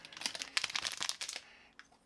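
Crinkling of a plastic candy bag, a quick flurry of close crackles and rustles that tapers off, with a faint last crinkle.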